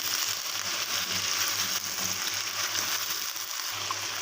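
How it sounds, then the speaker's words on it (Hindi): Chicken frying in a karahi with ginger and garlic paste, a steady loud sizzle and crackle with a low hum beneath, continuous throughout without talk. "अदरक और लहसुन में अच्छे से इसको फ्राई कर लेंगे"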